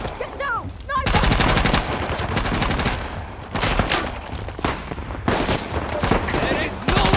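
Rapid sniper and automatic gunfire crackle through a firefight in the video game Uncharted, dense bursts of shots nearly continuous for several seconds, with shouted voices breaking in at the start.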